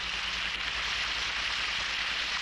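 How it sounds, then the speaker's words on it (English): Steady rain falls as a continuous, even hiss of drops on surfaces, with no breaks or other sounds. "Maybe this is what they call rain."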